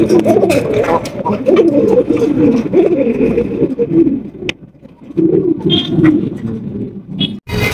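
Holland Jacobin pigeons coo steadily in a loft, a continuous low burbling chorus of several birds close by, with a brief lull midway and a couple of sharper chirps near the end.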